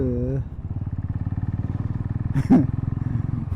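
A Royal Enfield Thunderbird 500 motorcycle thumps along at riding speed, a close, loud, steady pulsing engine beat with a brief rattling burst in the middle.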